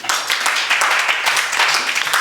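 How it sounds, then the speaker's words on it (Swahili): Pupils in a classroom clap together, a burst of brisk, overlapping hand claps at moderate loudness that carries on steadily for a couple of seconds before stopping abruptly. "Pigeni makofi kwa Musa."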